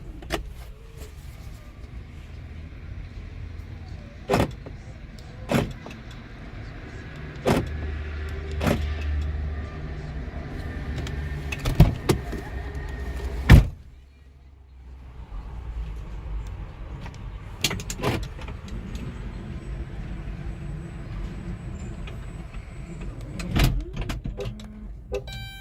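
Engine of a 2011 Chrysler Town and Country minivan idles after a remote start, a low steady rumble under repeated sharp clicks and knocks, with a short quieter dip partway through.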